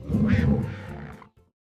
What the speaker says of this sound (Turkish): Bu bir aslan.